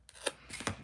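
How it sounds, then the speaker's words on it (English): Scissors trim card paper for a handmade card, giving two quiet, crisp snips about half a second apart, close and alone. "it looks like I will have to trim"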